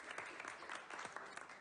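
Audience applause from a TV show, a steady wash of hand claps at moderate level with a few louder individual claps standing out, heard alone without talk.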